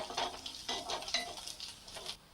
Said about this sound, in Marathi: आता त्याच्यामध्ये ही कापून घेतलेली कोथिंबीर घालून घेऊ मिक्स करून घेऊ